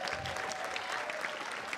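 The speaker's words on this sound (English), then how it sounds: "Round of applause to these ladies." Spectators at a pickleball championship give a short, steady burst of applause for the women players, a dense wash of clapping with no voices standing out.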